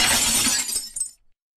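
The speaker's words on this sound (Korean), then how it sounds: "금은방 유리창이 박살나며 폭발음이 인근 상가에 울려 퍼졌습니다" A jewelry store's glass window shatters in one loud, close crash, shards tinkling and scattering for a moment before the sound cuts to silence.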